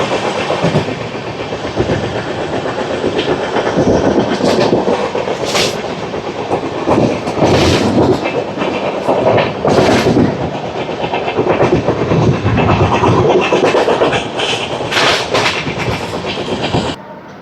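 Repalle Express 17645, running from Secunderabad to Repalle, rumbles loudly and continuously from on board, with rhythmic clickety-clack of the wheels over rail joints and occasional sharper rattles.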